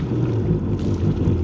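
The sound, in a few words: Yamaha GP1200R personal watercraft engine running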